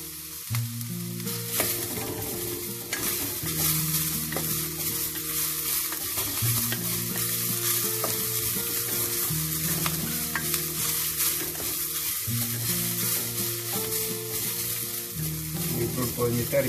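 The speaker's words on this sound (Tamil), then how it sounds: "இப்போ பீட்ரூட்டை மூடி விட்டேன் நான் பொரியறதுக்கு" Sliced beetroot fries in a pan with a steady, close sizzle, broken by repeated stirring scrapes and clinks along the way.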